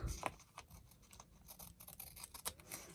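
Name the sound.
scissors trimming paper for a journal tag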